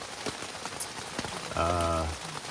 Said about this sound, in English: It's been coming down heavy like this, getting a little steadier with the rain.